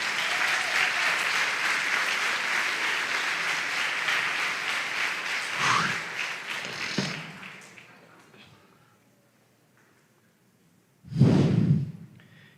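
A church congregation applauding during a homily, a dense sustained round of clapping that fades after several seconds, followed by a brief renewed burst near the end.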